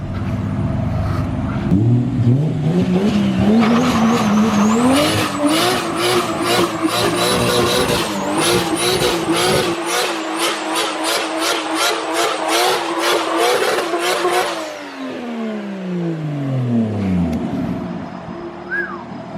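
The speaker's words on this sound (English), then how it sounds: "Russ asked if we wanted to see a burnout, and of course I want to see a burnout." A low-budget drift car revs hard and spins its tires in a burnout, engine climbing to high rpm with rapid pulsing bursts and loud tire screech, then the revs fall away in a descending whine near the end.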